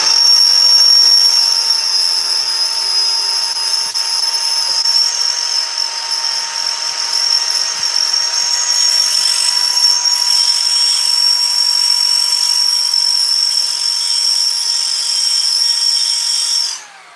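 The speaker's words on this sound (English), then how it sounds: "I'm just going to drill those 2" A power drill bores holes through a metal bar grill with a burnt drill bit, giving one loud, continuous high-pitched whine that holds steady for the whole stretch before cutting off at the end.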